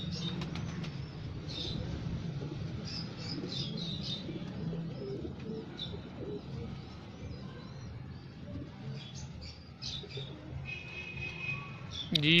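Pigeons coo in a low, steady murmur through a Faisalabad loft, with someone talking over them nearly the whole time and a few brief chirps and wing sounds scattered through.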